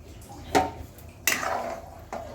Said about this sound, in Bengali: এবার আমি করলা আর সজনে ডাঁটাটা আমি দিয়ে দিচ্ছি এর ভিতর।